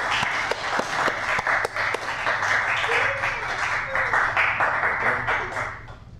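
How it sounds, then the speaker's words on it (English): An audience at a poetry reading in the Bayview Branch Library claps for a poet, lively close clapping with sharp individual claps over a steady patter, fading slightly toward the end, with a voice briefly audible. "Let's give him a great round of applause."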